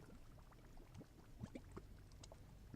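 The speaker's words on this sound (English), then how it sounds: "now you can hear the bubbling lava" Lava bubbles in Terraria with faint, soft pops and gurgles scattered unevenly across a quiet background, with no music and no voices.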